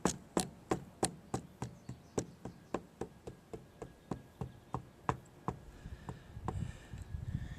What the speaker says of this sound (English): tap the corners with a hammer, and that'll round it off for you.